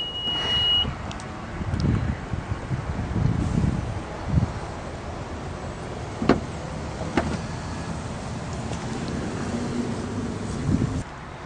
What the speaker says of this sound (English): the power liftgate closes with a push of a button